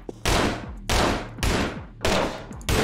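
Gunshots in the Anger Foot video game: five loud, punchy shots spaced about half a second apart, each with a short fading tail, and no talking.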